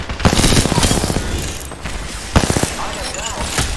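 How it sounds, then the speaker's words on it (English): Rapid automatic gunfire bursts from the video game Apex Legends, loud and repeated, with sharp single shots and mechanical clicks between volleys, under faint game voice lines. "The enemies are shooting at me."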